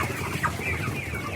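Clucking from broiler-type chickens on a poultry farm, a short continuous burst of close hen vocalising with no talk over it.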